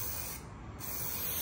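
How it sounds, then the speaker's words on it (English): Aerosol spray hisses continuously and up close onto the underside of a Valley pool table, a steady loud burst with a brief dip before resuming. "spray the bottom of it"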